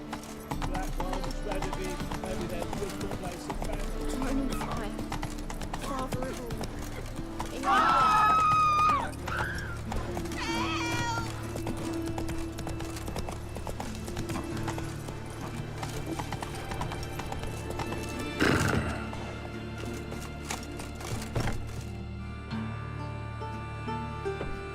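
Horse hooves galloping in The Witcher 3, a steady fast clip-clop running throughout with a short whinny partway, under game music and occasional talk.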